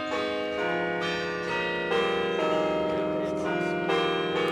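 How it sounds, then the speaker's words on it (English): A bell rings with sustained, layered tones that swell again at intervals, sounding loud and near with no speech over it. "I'm going to cut out the part with the bell"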